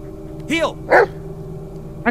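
Dog barking in the 2019 horror video game Blair Witch, two short yelping barks close up over a steady low game ambience, with another bark starting at the end.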